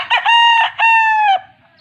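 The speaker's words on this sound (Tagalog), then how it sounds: "Napakagandang manok." A rooster crows once, loud and close, in a short harsh burst followed by a long sustained note.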